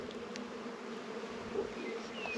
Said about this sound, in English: You're raking bees off on this herb garden.